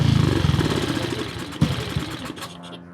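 A Cub motorcycle engine idles with a loud, rapid pulsing thump close by, then cuts out via the kill switch and sputters down to silence within a few seconds.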